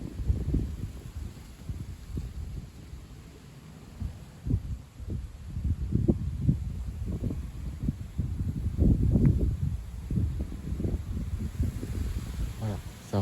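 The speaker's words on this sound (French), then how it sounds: "il se prend une belle rafale" A strong gust of wind outdoors in a December windstorm with drizzle, heard as low buffeting rumbles and irregular thumps against the microphone that swell and build over several seconds, with faint talk at times.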